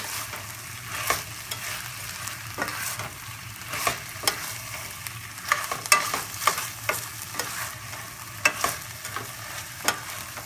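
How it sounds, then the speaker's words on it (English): Chicken lettuce wrap filling sautés in a pan, with a steady low sizzle broken by frequent sharp clicks and scrapes from stirring. "Saute this for like 1 to 2 minutes."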